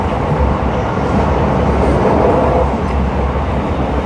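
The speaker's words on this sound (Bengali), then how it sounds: "এই ট্রেনটা চলছে ছুটিয়া" A passenger train runs through Darjeeling district on the Siliguri line, heard from on board as a continuous, heavy, even rumble with rattling wheels throughout. No speech.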